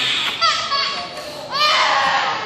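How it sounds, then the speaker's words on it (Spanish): An infant wails and screams in sharp, rising bursts during a Catholic baptism, loud and close, with short pauses between cries. "el bebé está llorando, gritando, llorando, no quería el bautismo"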